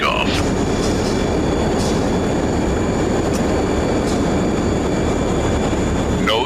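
Aircraft takeoff sound effect: a loud, continuous engine roar and rumble held steady throughout, with faint squeaks at the start and end.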